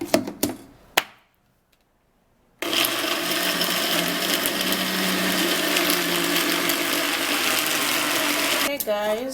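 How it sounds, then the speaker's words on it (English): A small kitchen blender whirs steadily at close range, blending ingredients for a morning immune-boosting drink. The motor runs loud and continuous for several seconds after a short pause, with brief clatter before it starts and a voice at the very end. "See why I blend my stuff one after the other? Because my blender is actually very small."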